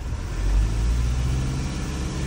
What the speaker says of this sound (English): And if I rev the car till 2000 RPM